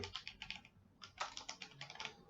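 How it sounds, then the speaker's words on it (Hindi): A computer keyboard tapped at a steady pace while an address is typed into a business card design, giving two quick bursts of light, close keystrokes with a brief pause between them, quiet and alone. "हम यहाँ से मेन एड्रेस भी टाइप कर सकते हैं"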